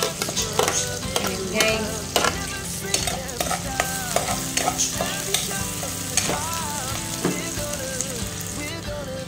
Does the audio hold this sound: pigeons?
no